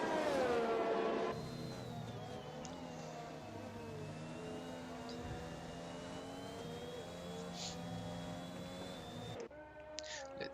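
McLaren Formula 1 car engine in F1 2021 on a flying lap at Spa, a steady high-pitched engine whine holding a sustained tone with slight pitch changes, ending abruptly near the end.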